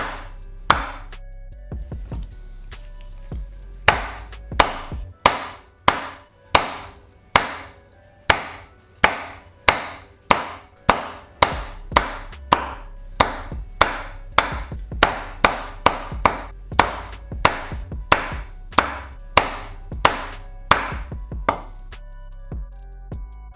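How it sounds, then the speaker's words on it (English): A knife chops grilled chicken into bite-sized pieces on a board, a long run of sharp, evenly spaced thwacks that repeat roughly once per second, close and clear, with no talking. "And now you want to cut this into bite-sized pieces for the tacos."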